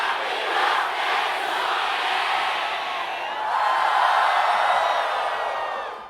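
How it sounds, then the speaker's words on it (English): A large crowd at a Sonic the Hedgehog 20th anniversary party in 2011 roars and cheers continuously, a dense wash of shouts and whoops swelling slightly midway. "an audio sample from the crowd at the Sonic 20th anniversary party from 2011"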